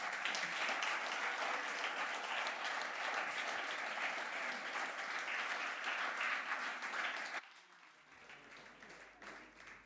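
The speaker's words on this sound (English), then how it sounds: "big applause to him" An audience at a Speck&Tech tech meetup on healthcare data gives a speaker a dense, steady round of clapping for about seven seconds before it cuts off to a quiet room.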